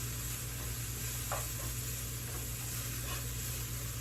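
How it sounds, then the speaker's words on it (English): Vegetables coated in grapeseed oil saute in a pan, giving a steady, even sizzle throughout with a couple of faint stirring scrapes. "those are coated in the oil nicely now, so we're just going to let those saute for a second"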